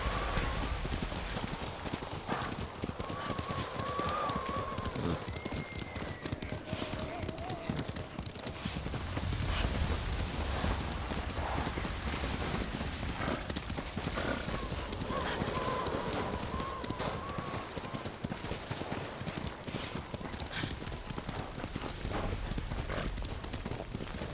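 Steady clip-clop of horse hooves at a trotting rhythm throughout, with occasional whinnies and voices talking over the hoofbeats, from the video game Ghost of Tsushima.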